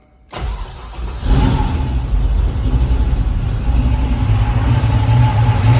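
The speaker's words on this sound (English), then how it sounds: "Now we'll just fire it up, get some temp into it, check the cold start." A tuned car with a 640 engine cranks and fires on a cold start, then settles into a loud, steady, rumbling idle heard up close with no talking.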